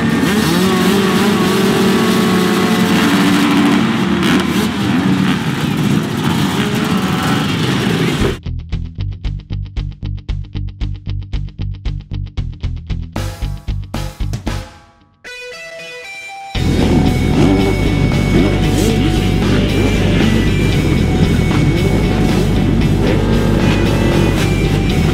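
Motocross bikes revving wide open together at a dirt track starting line during the Ryan Patterson Fall Classic at Blue Diamond MX, loud sustained roar with a rhythmic mid-section of pulsing revs before the pack surges again.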